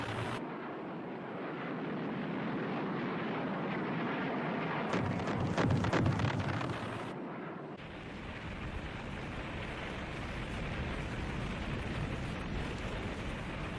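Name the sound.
aerial bombing, aircraft and explosions, Operation Linebacker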